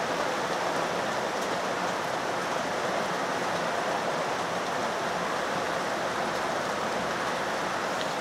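Heavy rain pours down in a dense, steady roar that stays loud and unbroken throughout, with no voices.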